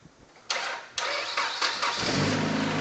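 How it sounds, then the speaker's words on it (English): A stock Nissan race car engine is cranked over in several sharp pulses, then catches and settles into a steady, close idle. "into his race car, and we're going to fire it up for the first time"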